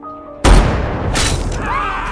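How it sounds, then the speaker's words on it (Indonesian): A sniper rifle shot in a war film fires a single loud, sudden blast close up, followed by a long rumbling echo that tails off. "Swigger mulai menarik pelatuknya."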